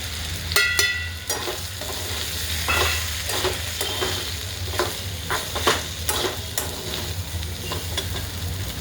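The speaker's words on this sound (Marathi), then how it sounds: "आता आपला साबुदाणा आणि शेंगदाण्याचा कूट एकत्र केलेलं टाकून घेऊया" Sago and crushed peanuts tossed into a hot pan for sabudana khichdi with potato, frying with a steady sizzle while a spoon scrapes and stirs in repeated knocks and clatters, close and fairly loud.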